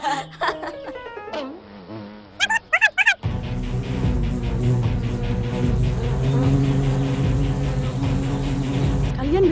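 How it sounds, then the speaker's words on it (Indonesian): Bees buzz close by in a steady, dense drone that starts abruptly after a few short squeaky and chirping sounds, then carries on loudly to the end. "Iya, suara lebahnya dekat."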